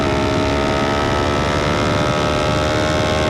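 A Kawasaki Ninja 500 twin-cylinder motorcycle engine runs with a steady, loud, close drone that holds one even note without talk over it.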